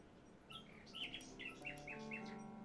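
Nightingale singing in the video game King's Quest 6, a faint run of bright chirping notes over a low sustained musical background.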